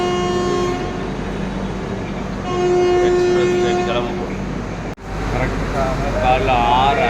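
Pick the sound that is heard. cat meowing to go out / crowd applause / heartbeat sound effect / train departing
train departing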